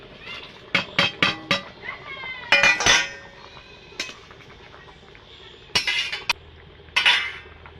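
A prawn and jackfruit curry is stirred in a metal pot, giving quick clinks and scrapes in irregular clusters, loud and close, with pauses between.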